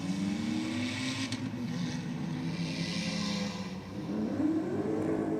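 A Ford Focus and a BMW launch side by side at a drag strip, engines droning steadily with a rising whine near the end, continuous and fairly loud, with no talk.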